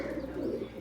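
Rajshahi Giribaz pigeons coo in a steady low, throaty rumble that runs without a break through the short moment, fairly close and moderately loud.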